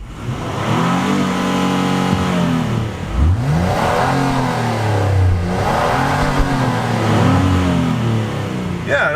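An Acura MDX engine revs hard and steadily toward 6,000 rpm, loud and close, its pitch climbing, easing and rising again in repeated sweeps.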